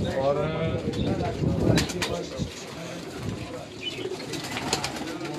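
Pigeons coo in a loft as someone talks steadily over them, soft rolling coos and some wing flutter close by under the voice.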